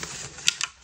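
A Japanese trading card display box is opened with a couple of quick, crisp cardboard clicks and snaps over faint background hiss, brief and close.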